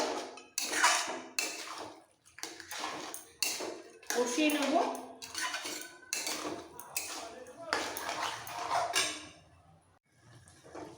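Metal spoon clatters and scrapes against a pot while rohu fish head is mixed with cabbage for a ghonto, irregular clinks and bursts of stirring, fairly close, with a voice talking over it.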